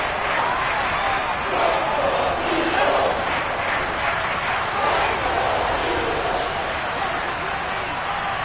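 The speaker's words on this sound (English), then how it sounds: "Plenty of shouts from this crowd as they watch the replay." A stadium crowd in the American football video game Madden 23 shouts and cheers in a loud, continuous roar that swells slightly now and then, filling the whole stretch.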